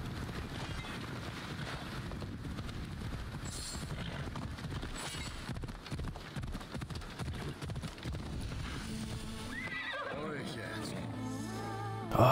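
Steady clip-clop of a horse's hooves in Assassin's Creed Odyssey runs throughout at a moderate level, with a faint neigh and other game sounds rising near the end.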